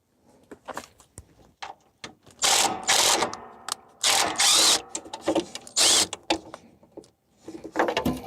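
Removing an 8mm bolt from a side panel on a John Deere D155 lawn tractor: close ratcheting and metallic rattles with clunky handling noises in irregular bursts, fairly loud, no talk.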